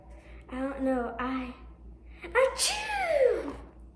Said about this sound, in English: That was a big sneeze.